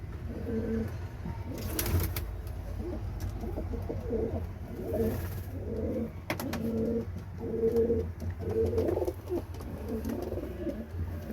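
Several pigeons coo in repeated low, throaty phrases close by, with occasional wing flutters and faint background noise.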